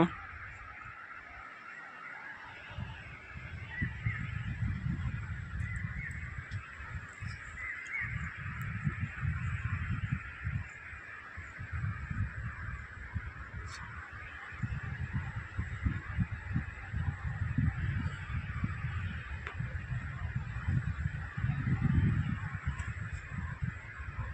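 Birds call and honk at a sea beach, their cries rising over a constant wash of surf and wind that stays loud throughout.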